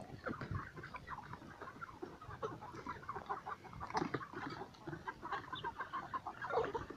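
Free-range chickens foraging in a rubber plantation cluck steadily, with overlapping calls from several birds close by and no voices.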